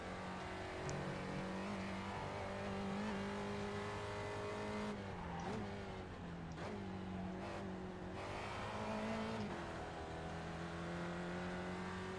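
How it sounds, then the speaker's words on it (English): A Spec Racer Ford race car in the iRacing sim at Oran Park scrubbing its tyres through a corner, with a steady loud engine drone and pitch dips as the car slides, continuous and close throughout. "Definitely scrubbing the tires there."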